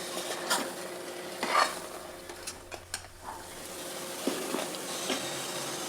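Masala spices roasting in a pan while being stirred, a faint sizzle under irregular scraping and clinking strokes of a spoon, close and fairly quiet, no voices.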